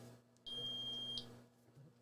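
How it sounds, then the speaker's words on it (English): A Keto Mojo blood meter gives one steady electronic beep lasting under a second over a low hum, close but quiet, no talking. "I didn't hear it beep when I put it in"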